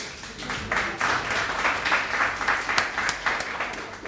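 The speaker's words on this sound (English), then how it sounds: "Yeah, give me a clap." An audience at a live community event in a hall claps steadily for a few seconds, the applause fairly close and continuous with sharp individual claps and faint voices underneath.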